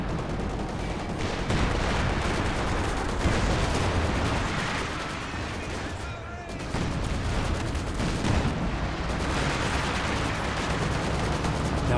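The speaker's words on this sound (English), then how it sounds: "T4 for KV1 firing away." A Soviet KV-1 heavy tank fires during a Company of Heroes 2 battle. Dense, continuous gunfire and blasts roll steadily for about twelve seconds, with a brief dip midway.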